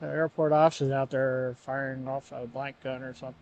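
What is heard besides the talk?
No everyday noise stands out behind the speech.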